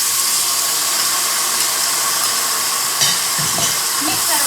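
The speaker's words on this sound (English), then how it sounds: "We add in our pad thai noodles. Then straight in our sauce." Pad thai noodles and sauce hiss loudly in a hot pan, a dense, continuous sizzle with a few stirring knocks and scrapes toward the end, close and without speech.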